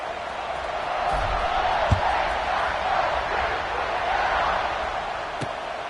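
A Minnesota Gophers football stadium crowd roars in a steady, far-off wash of cheering, with a few faint thuds and no distinct voice on top.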